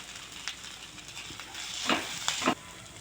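Prawns masala fry sizzling in a pan, a soft continuous hiss broken by a few sharper crackling bursts as the prawns are stirred.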